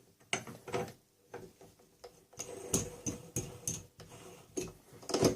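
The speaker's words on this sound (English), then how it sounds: "Put the blades on." Blades being fitted onto a Wolf Cub model-making tool, a combination drill, table saw, lathe and planer kit: a run of small metallic clicks, ratcheting and clattering taps close up, irregular and fairly quiet.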